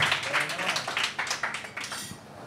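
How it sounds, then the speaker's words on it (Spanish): A studio audience claps in a quick, uneven burst of hand claps that rises briefly and fades within a couple of seconds, with a voice talking over it. "¡Un aplauso!"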